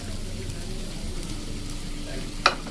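Milk powder, makhana and sugar being stirred together in a pan for roll rasmalai, a steady soft scraping and rustling throughout, with one brief sharper clink near the end.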